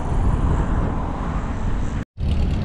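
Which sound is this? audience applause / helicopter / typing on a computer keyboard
helicopter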